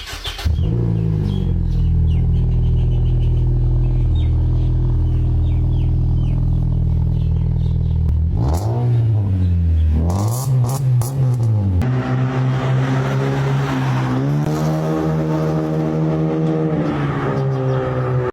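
A car fitted with a large HKS A+ replica exhaust idles with a deep, steady burble, then is revved in sharp, loud throttle blips that rise and fall before settling into a higher, steady drone.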